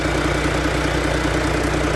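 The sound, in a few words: Isuzu Forward dump truck 6-cylinder engine idling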